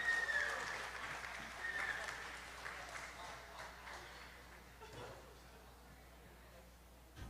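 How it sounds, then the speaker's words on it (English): Audience applause for a chef at a shellfish festival, a steady wash of clapping that starts strong and gradually thins out, with faint voices mixed in and a loudspeaker tone briefly audible. "give it up. Big round of applause."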